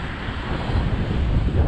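Extreme wind buffets outdoors around a DJI Mini drone in flight, a loud, continuous roaring rumble with gusty low-end swells and no talk.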